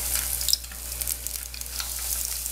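Pieces of polenta frying in hot oil give a close, fine crackling sizzle with a few sharper pops over a short stretch, no voices.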